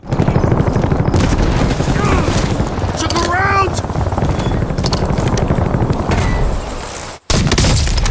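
Loud, dense gunfire from Call of Duty Warzone, with rapid bursts running nearly the whole time and one short gap near the end, under excited shouting from a player.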